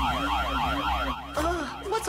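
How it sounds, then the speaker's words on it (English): A repeating electronic alarm wails in steady up-and-down sweeps, loud and close, briefly broken near the end by a short burst of other noise. "Ring the alarm. Code red. Emergency."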